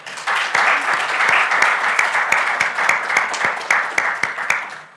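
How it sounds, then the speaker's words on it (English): A development conference audience gives a loud, dense round of applause lasting several seconds, with a few sharper individual claps punching through before it fades out. "can we do a big round of applause to finish off?"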